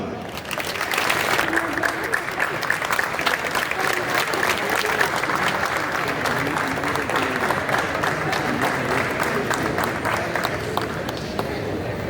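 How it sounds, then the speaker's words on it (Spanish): Sustained audience applause at a tribute ceremony in Gijón, a dense, even patter of many hands clapping that stays steady for the whole stretch. "Un aplauso."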